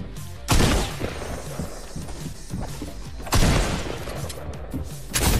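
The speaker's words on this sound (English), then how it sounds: "he's shooting me through the window!" Bursts of video game gunfire as an opponent shoots through a window, with three loud volleys at the start, middle and end over a steady background of game noise.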